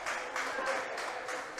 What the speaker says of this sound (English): Let's listen for another cheer here